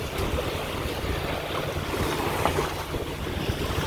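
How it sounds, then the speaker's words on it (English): A sailboat under brand-new precision sails cuts through waves at speed, with steady rushing water and wind buffeting the microphone throughout, no voices. "These are my brand new precision sails. Seem to be operating pretty daggone nice. Look at that speed."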